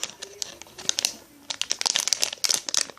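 Plastic packaging on a My Little Pony toy crinkles and crackles close up as it is opened, in repeated bursts of bright crisp rustling with short pauses between them.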